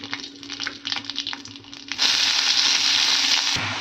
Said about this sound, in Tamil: பொரிஞ்ச உடனே இப்போ நம்ம கட் பண்ணி வச்சுருக்க ஆனியன் சேர்த்துக்கலாம்.